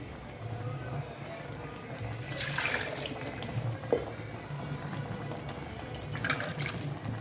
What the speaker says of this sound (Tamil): இந்த மிக்சியில் கொஞ்சம் தண்ணி விட்டு கலந்து எடுத்துக்கலாம்